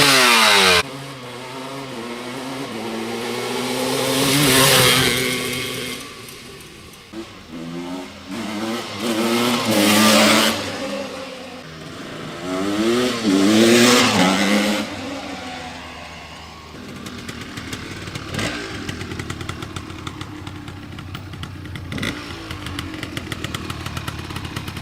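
A 1985 Honda ATC250R two-stroke three-wheeler ridden around a parking lot, its engine revving hard in repeated rising and falling bursts that pass close by, then settling to a rattly, crackling idle.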